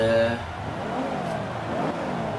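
BMW M135i engine from the Xbox One game Forza 5, revving near and loud at a race start, its pitch sliding down and then climbing again as it accelerates.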